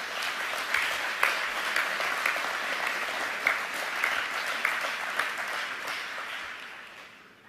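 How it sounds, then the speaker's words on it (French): Steady applause fills a hall at a bank's annual general meeting, a large audience clapping evenly at moderate distance before fading out at the end. "je vous remercie de bien vouloir les applaudir"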